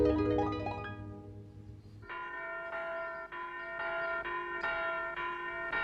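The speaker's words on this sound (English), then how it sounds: "There goes the school bell." School bell ringing in a children's herb garden scene, a series of clear, steady bell strokes repeating at an even rhythm after a brief musical passage, fairly close and alone.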